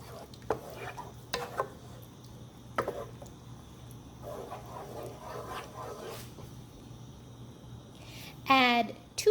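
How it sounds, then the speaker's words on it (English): A spoon stirs bolognese sauce with crushed tomato in a pot, making intermittent scraping and clinking strokes over a soft sizzle, with a brief clatter near the end. "Stir it."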